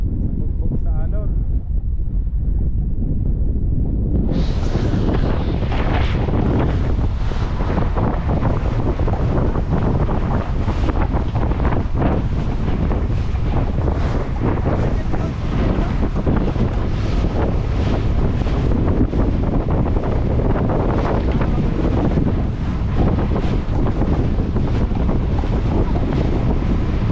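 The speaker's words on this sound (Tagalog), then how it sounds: "Oops, ang lakas ng hangin." Strong wind roars across a small boat at sea near Socorro, Philippines, rising suddenly after a few quieter seconds into a loud, continuous buffeting rush over the microphone, with wave noise underneath.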